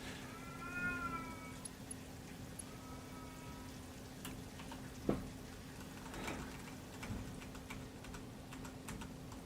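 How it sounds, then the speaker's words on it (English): A deaf house cat lets out a few drawn-out yowling meows early on, faint and somewhat distant, over quiet background hum and light keyboard tapping. "You could probably hear my cat yowling in the background."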